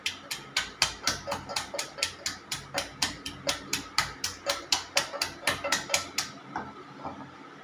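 A wooden churner (mathu) pounds tomatoes for a South Indian rasam, a fast, steady train of sharp knocking thuds, close and fairly loud, repeating for several seconds before stopping abruptly.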